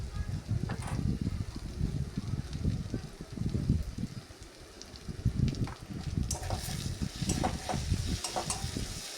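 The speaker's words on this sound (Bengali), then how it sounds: "এরপর আবার বেশ কিছুক্ষণ ধরে এভাবেই নেড়ে চেড়ে একটু কষিয়ে নেব মশলাগুলোর সাথে" Onion, tomato, chili and ground turmeric, chili and cumin fry in a pan for a banana-flower and chickpea dish, with a continuous crackling sizzle and frequent scraping strokes as the spices are stirred, close and steady.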